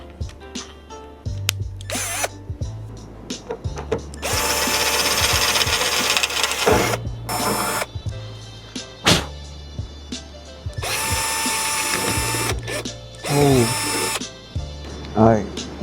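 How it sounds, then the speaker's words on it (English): Power drill boring holes into the trunk lid of a Ford Mustang GT500 for a spoiler install, loud close bursts of whining drilling separated by pauses and short clicks, with someone talking between the bursts. "grab your drill, a couple of drill bits, and you're gonna start to drill these holes into the trunk"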